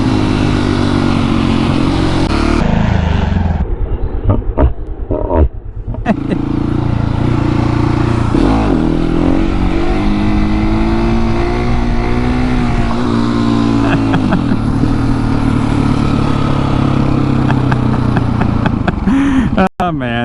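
A 701 motorcycle engine revs hard and loud on open farmland as the rider tries for a wheelie, the roar rising and falling in surges with voices talking over it.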